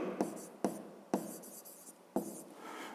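Pen writing on paper while numbers are written down for a fifth-grade math exercise, heard as close scratchy strokes with several sharp taps as the pen meets the page, without talk.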